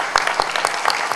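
Short burst of audience applause at a formal ceremony, closely miked clapping with distinct individual claps popping out of a steady crowd wash, fairly loud, no voices.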